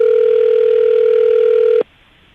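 A steady, loud telephone tone holds for nearly two seconds and then cuts off abruptly, leaving only faint line hiss.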